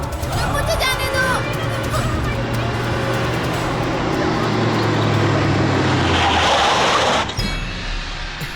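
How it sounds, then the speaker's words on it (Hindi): A car driving, steady loud engine and road rumble filling the cabin, with shouting voices and music over it before the noise drops off near the end. "गाड़ी रोको प्लीज"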